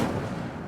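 A fiery Incendio spell bursts out in Hogwarts Legacy, a loud, dense roar of flame-like rumble that fills the whole short moment and trails off slightly at the end.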